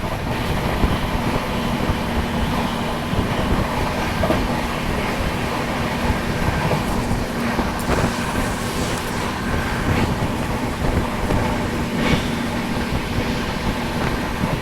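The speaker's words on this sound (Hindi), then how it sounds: "और यहाँ पे हमने 12167 Mumbai LTT Banaras superfast express को ओवरटेक किया" Aboard the Vikramshila Express as it overtakes the 12167 Mumbai LTT Banaras Superfast Express, a loud, continuous rail rumble with rattling wheel clatter fills the whole stretch, close and unbroken, with no talking.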